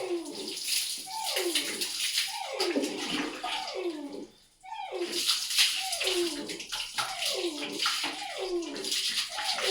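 Water is poured repeatedly over a dog at bath time in a steady series of close, splashing gushes with a brief pause midway and no talking.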